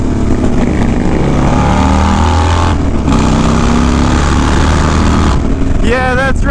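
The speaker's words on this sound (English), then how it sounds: "My worked 88 cubic inch engine will keep up with your cammed up 110." Harley-Davidson Dyna Low Rider S motorcycle with a worked 88 cubic inch engine, roaring loud and close as it rips along, a steady heavy engine drone with shifting pitch and a brief rising rev near the end.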